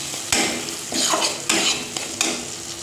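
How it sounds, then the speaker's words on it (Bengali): Chicken is stirred into a cooked spice masala in a pan, giving a moderate sizzle broken by several distinct spoon scrapes and clatters against the metal. "মশলা দেখো আমার কিন্তু বেশ অনেকক্ষণ ধরেই কষিয়ে নিলাম। এবার চিকেনটা দিয়ে দেবো।"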